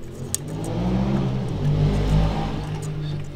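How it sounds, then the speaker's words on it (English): Loud motorbike passing outdoors, a steady low engine drone building and swelling over a few seconds, heard from indoors in the background. "super noisy dude on a motorbike."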